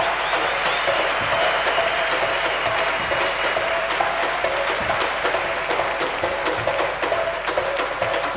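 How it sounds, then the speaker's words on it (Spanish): Steady, loud applause from a live audience for a percussionist on stage, a dense continuous clapping that fills the whole stretch with no talk over it. "fuerte aplauso para él"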